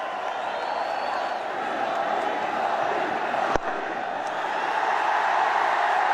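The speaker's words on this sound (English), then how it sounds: "Big cheer here." Cricket stadium crowd cheering as Rohit Sharma reaches a fifty off 27 balls in a big T20 chase: a broad, sustained roar filling the whole stretch, distant and steady, with one sharp knock midway.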